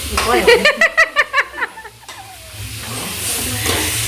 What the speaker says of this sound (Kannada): ನೀರುಳ್ಳಿ ಬಡಿಯ ಟೊಮೆಟೊ ಕಾಯಿ ಮಿಂಚಿ ಬಡಿಯ ಅವೇನು ಸರಿ ಫ್ರೈ ಮಾಡ್ಲಿ